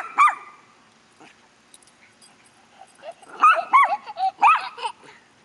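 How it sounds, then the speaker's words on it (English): A pet dog barks in short yelping bursts at a turtle in a backyard at night, with one bark near the start and a cluster of higher, whimpering yips near the end, loud and close with quiet gaps between. "She's just going to bark at him all night."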